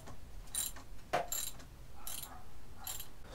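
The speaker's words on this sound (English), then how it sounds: "all you need to have is a 5/8 socket to crack open that drain plug" Ratchet on a 5/8 socket cracking loose the oil drain plug of a Harley-Davidson M8 Softail, several short clicking bursts close by with a sharp snap partway through, and no talking.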